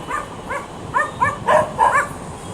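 Several dogs bark in short, spaced bursts, some yelping higher, over a faint steady background hum; no voices.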